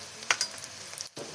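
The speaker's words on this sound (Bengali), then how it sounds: "আমার পেঁয়াজটা ভাজা ভাজা হয়েছে, আমি এখন এক এক করে যে হলুদের ফাঁকি দিয়ে দিলাম" Onions fry in a pan as turmeric powder goes in, a short burst of soft sizzling with a few light scrapes and taps, fairly quiet and close.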